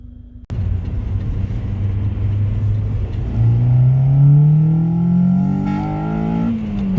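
A Honda Civic Type R EP3 fitted with a short shifter accelerates hard, its engine note climbing steadily in pitch through the rev range, loud and close with a steady rumble and no talking.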